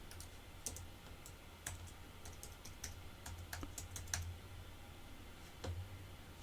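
Keys on a computer keyboard clack in quick, irregular bursts, faint and close, with short pauses between clusters of taps over a low steady hum.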